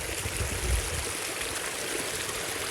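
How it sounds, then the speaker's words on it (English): Groundwater trickling down a seep after a major storm, a steady close hiss of flowing water with no pauses throughout, a soft low thump near the start. "this will still have water flowing down it"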